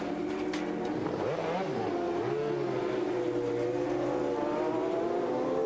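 A Honda endurance racing motorcycle engine rumbles steadily in the pits at the Bol d'Or, with its pitch rising and falling through several revs before it settles into a continuous loud drone.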